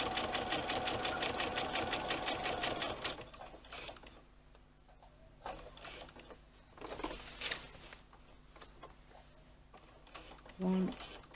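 A sewing machine stitches tote bag fabric along a line in a quick, steady rhythmic run for about three seconds, then stops. Fainter handling and soft clicks follow, and speech is heard.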